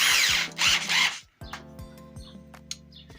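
An Intertool WT-0110 corded electric screwdriver whirs loudly at full speed for about a second and a half, then stops, followed by faint clicks and handling noises up close.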